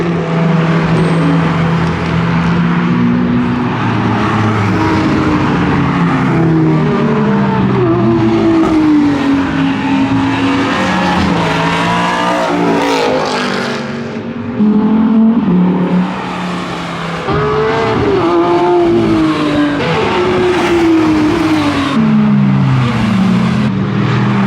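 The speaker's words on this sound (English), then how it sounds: "The motorbikes are out at the minute." Motorbikes race around the Mallory Park circuit, their engines loud and continuous, rising and falling in pitch as they accelerate, shift and sweep past.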